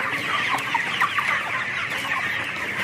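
Broiler chickens on a farm give soft, scattered clucks close by, set against a steady low hum of the poultry shed, with no voices.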